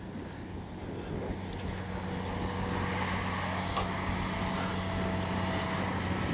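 A small RC model propeller plane, a Swift, drones steadily overhead with a buzzing, slowly varying engine whine, fairly distant, over outdoor background noise.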